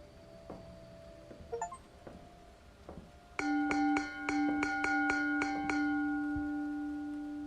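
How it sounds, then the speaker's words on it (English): Bells in an eerie Steam video game ring out in a series of about nine clear, resonant chimes at a steady pace, loud and close, following a few scattered quieter clinks and taps. "The 9 bells."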